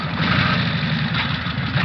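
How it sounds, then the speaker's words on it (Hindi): Motorbike engine idling as a sound effect in a Hindi horror story, a steady low throbbing rumble that holds evenly throughout, close and fairly loud with no voices. "हम वहाँ पहुँचे ही थे कि हमने बाइक की आवाज़ सुनी।"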